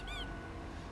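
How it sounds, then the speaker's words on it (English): A toy gerbil in the Death and Taxes video game lets out a short, faint squeak near the start, followed by quiet background. "the toy gives a sad noise as you make your way outside"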